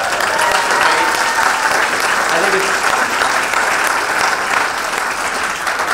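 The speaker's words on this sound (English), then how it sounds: "So let's give a round of applause for that." A school audience applauds after a children's Willy Wonka stage show, with dense, sustained clapping that fills the whole stretch at steady loudness and a voice speaking briefly over it.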